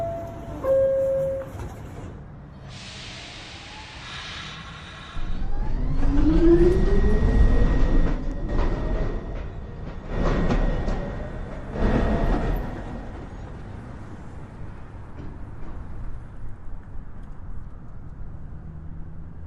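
NYC Subway 1 train at Beverly Road station, heard from the platform: a loud, deep rumble swells as the train moves, with a rising electric motor whine and brief bursts of squealing and clatter, then a fading hum.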